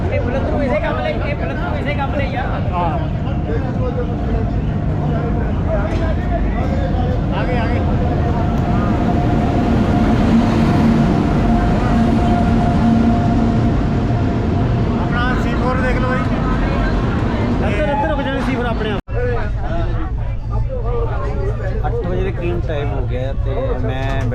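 Steady rumble and rattle inside a moving Kalka Shatabdi chair-car passenger train, a continuous loud drone with people talking over it.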